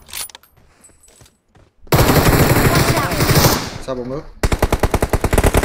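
Rapid automatic gunfire in the mobile battle royale game PUBG Mobile, loud dense bursts followed by a sharp rhythmic string of shots, with someone speaking briefly in between.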